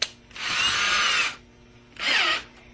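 Power drill fitted with a 1/16 inch bit boring through a fingerboard, two close whirring bursts, the first about a second long and the second shorter, with a quiet pause between them.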